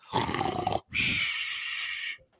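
A man imitates a dog growling, giving two rough, raspy growls in close succession, each about a second long, with a short pause between them.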